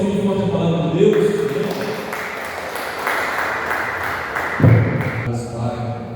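Congregation applauding strongly at a Sunday worship service held outdoors on a lot, a dense steady wash of clapping with a couple of heavier thumps midway, lasting several seconds.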